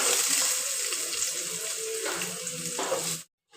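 Green chillies and onions are dropped into hot oil for a fish curry and fry with a steady, close hiss and sizzle that keeps going, then cuts off abruptly near the end.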